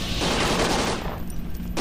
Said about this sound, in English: Crap, who's shooting?